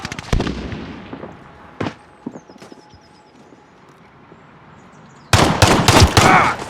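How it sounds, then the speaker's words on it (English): Video game gunfire cracks out as a few loud isolated shots early on, then a quieter stretch, and finally a dense, rapid volley of close, sharp bursts. "I'm taking fire! Taking fire."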